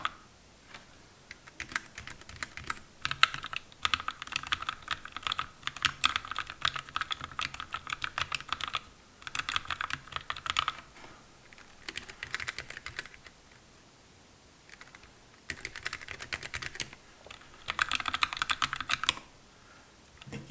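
Clattering keystrokes from a Keychron K3 Retro low-profile mechanical keyboard come in quick bursts with brief pauses between them, close and clear, with no voices.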